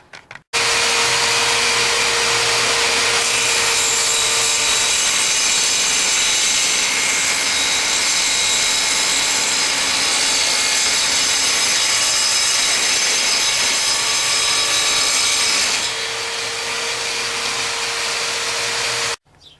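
Power saw cutting wooden pieces for the frame of a seed-cleaning sieve, a loud steady whining drone running almost twenty seconds without a break before cutting off.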